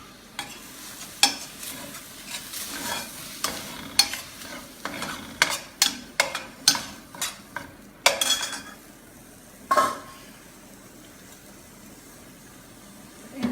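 Vegetable broth poured into a hot pan of spinach enchilada filling, a sizzle with a run of sharp utensil scrapes and stirring clacks against the pan, close and clear, no talking.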